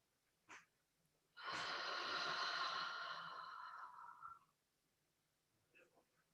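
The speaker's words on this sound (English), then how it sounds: "So breathe in." One long, audible inhale during a guided meditation, a soft airy breath lasting about three seconds, close and quiet, framed by faint small sounds before and after.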